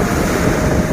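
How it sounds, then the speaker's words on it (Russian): Stormy wind roars over a rough lake while large waves crash and surge steadily, dense and loud throughout, at a fishing competition in Kazakhstan where a boat is swamped near shore. "Разыгрался шторм."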